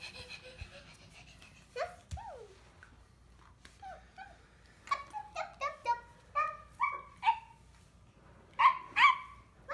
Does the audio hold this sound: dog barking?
yes